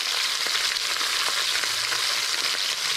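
Lamb neck chops sizzle and fry steadily in a pan, a loud, continuous crackling hiss with no talking.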